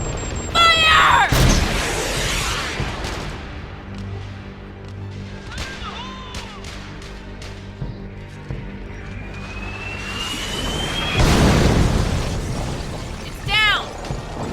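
In a war film, artillery fires on command. Sharp, loud cannon blasts come at the start and again later, with a whistle and a booming impact, mechanical clatter in between, and voices shouting around them.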